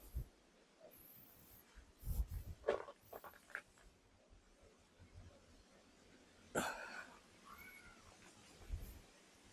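A cat meows a few times, faint and close, amid soft rustling and scattered thuds in a quiet room at an events venue in Alfonso, Cavite, Philippines.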